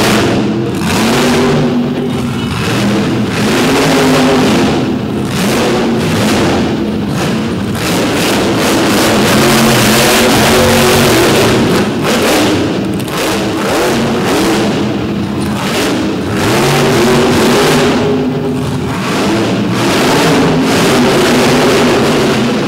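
A big Jeep's engine revs hard and loud through an off-road race course, surging and easing in repeated bursts of throttle as it climbs and leaps obstacles, with a continuous roar filling the whole stretch.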